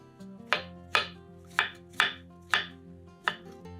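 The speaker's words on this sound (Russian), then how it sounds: "500 грамм шампиньонов нарезаем кубиками" A knife chops 500 grams of button mushrooms into cubes: six crisp, evenly spaced strikes with clear gaps between them, close and distinct, with no one talking.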